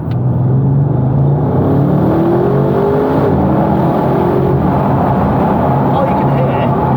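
An Audi RS6 engine revs and accelerates, a steady loud drone with rising harmonic sweeps heard from inside, with people talking over it throughout.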